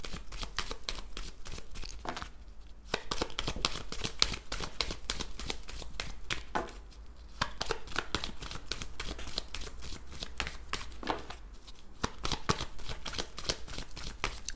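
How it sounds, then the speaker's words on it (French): Tarot cards are handled and flipped over one after another, producing quick, crisp flicks and soft slaps at a steady, rapid pace, close up, with brief lulls between runs. "Je les retourne toutes."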